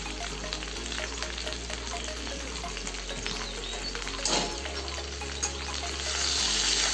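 Potatoes and papaya fry and get stirred in a pan with a steady close sizzle, and scraping stir strokes rise and fall over a constant low hum.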